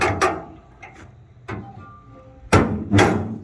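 Tailgate lock on a pickup truck with a boosted 5.3 engine being unlocked: a few sharp, close mechanical clunks and clicks, two strong knocks near the end, with no talking.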